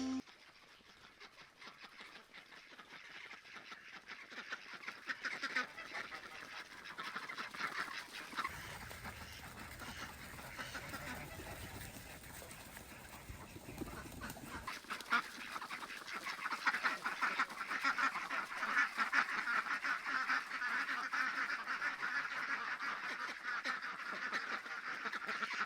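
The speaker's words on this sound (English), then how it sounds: "since getting our farm a little over 3 years ago, we've had khaki Campbell ducks" Khaki Campbell ducks on a farm quacking, a faint flock chattering at a distance that builds and grows denser toward the end, over quiet outdoor background.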